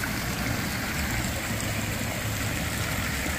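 A decorative fountain spouting water from a fish-shaped figure into a small basin makes a steady, continuous splashing wash, close and unbroken with a low rumbling undertone throughout.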